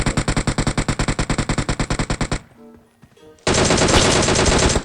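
Automatic gunfire in the mobile battle royale game PUBG Mobile: a rapid burst of about twenty evenly spaced loud shots, a short quieter pause, then a dense continuous roar of firing.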